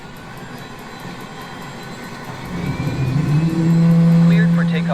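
A Southwest airliner takes off in Microsoft Flight Simulator from runway 8 left at Las Vegas, its jet engines swelling from a low hum to a loud, rising roar, with a voice speaking over it.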